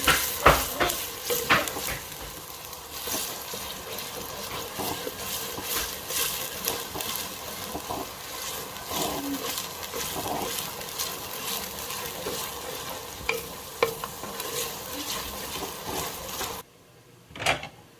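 Onions frying in a hot pan at home, a steady sizzle with repeated stirring scrapes running throughout, close and fairly loud, with no talk.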